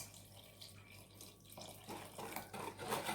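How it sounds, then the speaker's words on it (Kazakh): Cold water, about 100 grams, is poured into chiffon sponge cake batter, making a steady close splashing trickle that grows louder during the second half. "Және де 100 грамм жай суық су қосамыз."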